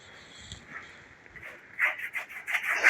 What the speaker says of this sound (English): that's the sound of me pushing the paint into the canvas.